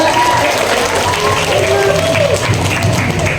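Audience applause during a Balinese bondres comedy performance at a youth group anniversary in Banjar Dadakan, Denpasar, dense clapping mixed with crowd noise and voices, loud and continuous throughout.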